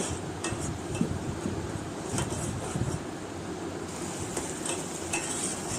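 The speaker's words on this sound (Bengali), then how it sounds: "বাদাম বাটা সরিষা বাটা আদা বাটা এগুলো দিয়ে ভালো করে কষিয়ে নেব" Nut, mustard and ginger paste stir-fried with spices in a pan for shukto, giving a steady close sizzle with scraping and clinking of a spatula against the pan throughout.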